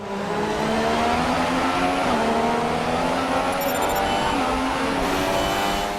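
An F1 car driving in the F1 2016 video game, a loud high-pitched engine whine holding steady with small pitch shifts through gear changes, heard alone from onboard.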